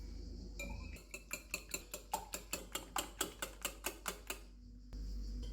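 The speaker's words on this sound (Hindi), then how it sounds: "अंडों को फेंट लेते हैं" Eggs beaten by hand in a bowl with chili powder, salt, crushed red pepper and black pepper for egg paratha: about fifteen crisp, evenly spaced clinks over a few seconds, close and clear, with no voices.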